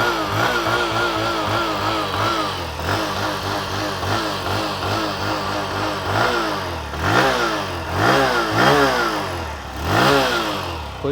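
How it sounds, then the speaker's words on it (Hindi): A 2026 Bajaj Platina 110 Fi motorcycle's 110 cc engine revs repeatedly, the throttle blipped in rising and falling surges over a steady idle, with a loud, close exhaust note throughout. "एग्जॉस्ट साउंड सुनिए। थ्रॉटल देता हूँ।"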